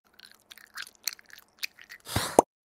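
Close, wet chewing of gum in a stop-motion animation, with small soft smacks and squishes in an irregular rhythm, ending in a louder burst and a sharp pop.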